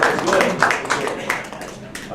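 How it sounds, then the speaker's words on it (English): Meeting attendees clap in a brief, scattered round of applause, individual claps audible and uneven, with voices talking over it. "Give yourself a round of applause"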